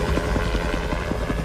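A helicopter flying overhead gives off a loud, steady rhythmic rotor thump over a constant engine drone.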